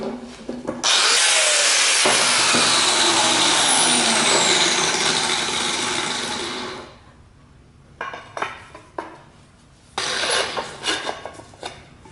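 Wood being shaved off an adze handle for the head: a loud sustained scraping, rasping stroke lasting several seconds, followed by quieter scattered knocks and rubs and another burst of scraping.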